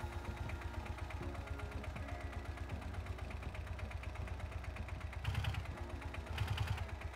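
A built engine in GearBlocks idles with a steady, rapid mechanical chatter, fairly quiet and even, with two brief louder surges near the end.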